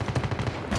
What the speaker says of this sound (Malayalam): അവന്മാരെ അങ്ങോട്ടേക്ക് വെടി വെക്കുന്നു